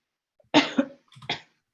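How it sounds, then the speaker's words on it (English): A person coughs twice in quick succession, close and fairly loud against silence, during an online meeting. "I'm just coughing."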